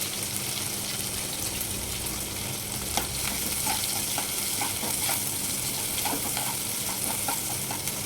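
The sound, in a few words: frying onion and green chillies in a pan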